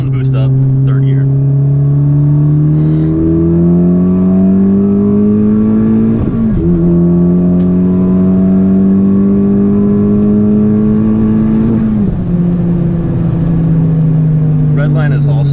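A modified 10th-generation Honda Civic Si with a bigger turbo, boost turned up, accelerates hard in third gear. The engine drone climbs steadily and loudly, dips briefly at about six and twelve seconds as it shifts, and the heard onboard throughout.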